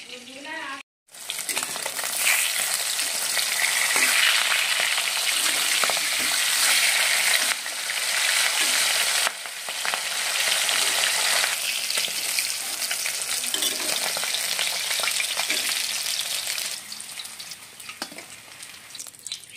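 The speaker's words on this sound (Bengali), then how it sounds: "ওই তেলের মধ্যে আমি তেজপাতা আর জিরে ফোড়ন দিচ্ছি।" Bay leaves and cumin seeds tempering in hot oil sizzle loudly and continuously, close up, with crackling and stirring scrapes running throughout after a brief break near the start.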